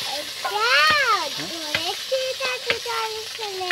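Fish frying in a pan with a soft background sizzle, mostly masked by a child's high, sing-song voice chattering over it.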